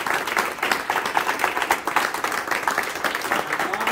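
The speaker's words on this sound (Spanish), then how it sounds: "Denle un fuerte aplauso," Loud, sustained applause from a church congregation, dense rapid clapping from many hands filling the room, steady throughout with no voices standing out.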